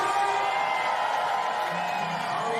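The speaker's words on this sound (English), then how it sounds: "Crowd's hyping him up" Crowd at a wakeboard competition cheering and whooping for a rider on the dock, a steady loud roar of many voices with a commentator talking over it.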